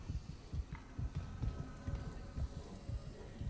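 Heartbeat from the horror game Dead Space, a steady low thudding pulse repeating about twice per second, faint and muffled under a soft background hum.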